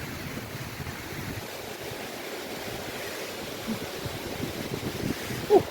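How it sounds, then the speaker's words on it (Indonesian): Strong winter wind blows outdoors near water, a continuous rushing roar with gusts buffeting the microphone, and no one speaks. "Anginnya gede."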